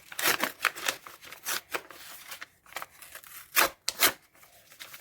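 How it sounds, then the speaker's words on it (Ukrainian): A plastic packet is torn open in a series of rough, crinkly rips, loud and close, with short pauses between pulls. "І пакетик рветься, і пакетик порвався"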